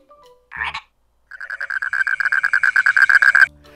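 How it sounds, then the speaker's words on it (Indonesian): A frog croaks in a fast, steady series of rasping pulses lasting about two seconds, preceded by one short separate call, loud and close with no talking. "Suara kodok seperti ini."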